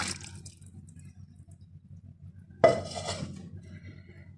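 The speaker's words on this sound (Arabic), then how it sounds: "هنزل كده بالصلصة والشوربة على البامية" Tomato sauce and broth are poured over okra in a cooking pot: a sudden wet splash after a quiet stretch, then a softer trickle fading away.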